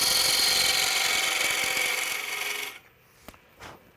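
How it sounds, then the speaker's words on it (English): A square nose scraper shaves waste wood from a spinning yarn bowl blank on a wood lathe, a steady close rasping scrape that fades out after under three seconds, followed by a couple of faint knocks. "Now I'm just going to use a square nose scraper."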